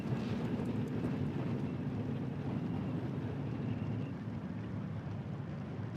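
Bomber aircraft flying in Steel Division 2, a steady low droning engine rumble, even and sustained throughout with a faint windy hiss above.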